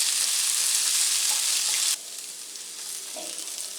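Pork and zucchini stir fry sizzling in a pan, a loud steady hiss that drops abruptly halfway, then a quieter sizzle continues with a faint clink, no talking.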